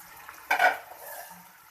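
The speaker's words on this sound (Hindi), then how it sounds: "सबसे पहले इसके अंदर डालेंगे ये हाफ़ kg मटर के दाने हैं" Half a kilo of peas and a kilo of carrots drop into a pan of frying masala for a dhaba-style mixed vegetable dish, giving one brief clattering burst followed by a low sizzle.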